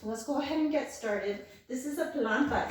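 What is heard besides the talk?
None of the usual background noises is heard.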